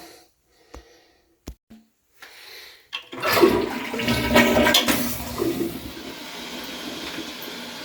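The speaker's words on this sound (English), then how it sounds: "you have to pull it to the length you want it and you flush" A dual flush toilet flushes after a few short knocks and handle clicks, then a loud close rush of swirling water that gradually drains away, with no talking.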